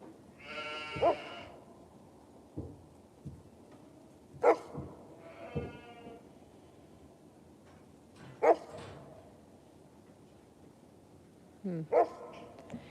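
A dog barks a few times at a distance on a sheep farm, single sharp barks spaced seconds apart, with soft sheep bleats and a quiet background.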